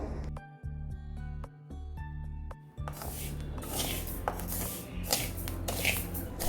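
Dried rice grains dry-roasted in a pan for a baby health-mix powder: dense scraping and rustling of grains being stirred starts partway through, with tonal music playing before it and faintly underneath.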